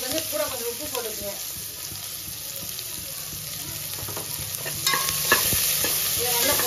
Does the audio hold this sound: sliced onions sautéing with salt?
yes